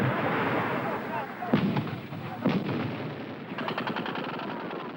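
Salvos of 122-millimeter rockets land during the Angolan civil war battle near Luanda, heard as a rolling series of booms and sharp cracking bursts in an archival war recording.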